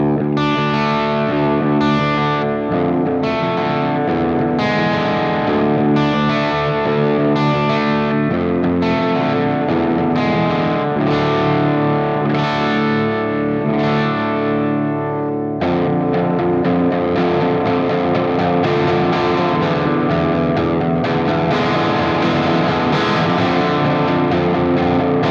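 Distorted electric guitar through a Joyo Baatsin overdrive based on a high-watt DR105, played with no reverb, plays a continuous, chugging riff with thick, saturated tone, loud and sustained, with a brief break partway through before resuming.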